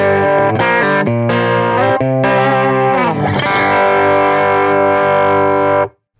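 An electric guitar plays through a Dreamaker PPX2 Phil Palmer signature amp using only the mid boost for a driven, distorted tone. Sustained chords and notes ring with chorus-like shimmer, then cut off abruptly at the end.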